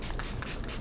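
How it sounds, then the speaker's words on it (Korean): Setting spray misted over a made-up face, a short close hiss in a few quick bursts, faint and on its own. "세팅 겸 수분 충전 겸 한번 스프레이 뿌려주고"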